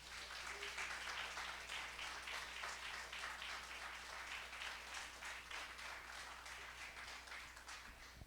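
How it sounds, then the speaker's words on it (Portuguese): Church congregation applauding during a sermon, a steady wash of many hands clapping that stays fairly constant and sounds somewhat distant, with a low hum beneath. "Você pode aplaudir ao Senhor."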